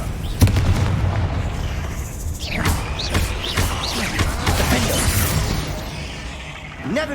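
Confringo fire spell blasts repeatedly in Hogwarts Legacy, a series of booming, crackling explosions over a dense rumbling game soundscape, with voices heard in the mix.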